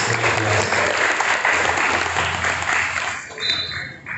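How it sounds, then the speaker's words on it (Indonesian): Brisk applause from the audience at an Islamic New Year 1442 H religious gathering, a dense burst of clapping for the event committee that thins and tapers toward the end. "tepuk tangan dulu untuk panitia malam ini, sukses"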